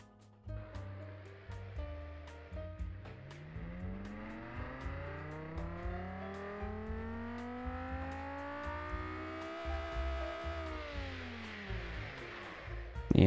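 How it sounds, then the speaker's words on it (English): A V10 engine in the video game BeamNG revs up in a long, smooth rising sweep, holds high, then falls back. It is loud and steady with no talk over it. "Yeah, that's how V10 should sound like."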